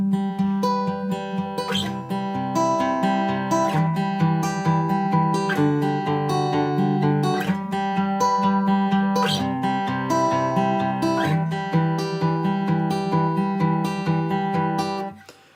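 A guitar plays the verse in a steady picked pattern, strummed chords recurring in a regular rhythm, full and close with no singing or talk.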